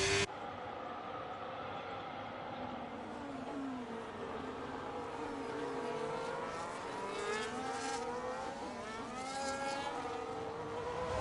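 Several F1 race cars lapping the Spain Catalonia circuit in a racing game: high-pitched engines whining and shifting as they chase each other, a steady loud pack with no voices.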